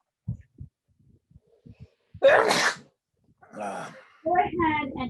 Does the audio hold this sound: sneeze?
yes